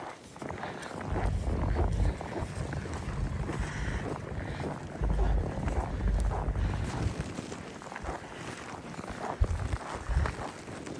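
Winter storm wind in Saskatchewan, heard as strong buffeting gusts rumbling against the microphone with rushing noise rising and falling throughout.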